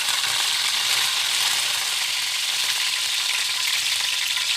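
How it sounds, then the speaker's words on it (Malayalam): Curry leaves sizzle steadily in hot coconut oil for a chicken curry, a loud, continuous close-up frying hiss with no talk over it. "ഇനി നമുക്ക് വേപ്പില ഇട്ട് കൊടുക്കാം"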